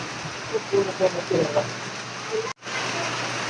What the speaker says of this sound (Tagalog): tumapatak na naman ang ulan sa labas ng bahay.